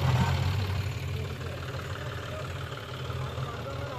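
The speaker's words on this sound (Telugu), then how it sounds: "జేసీబీతో మళ్ళా నేర్పిస్తున్నాం చూడండి." A JCB excavator engine runs steadily while levelling a rain-damaged dirt road, a continuous low diesel drone with a slight knock, at moderate distance and fairly consistent in level, with faint background sounds.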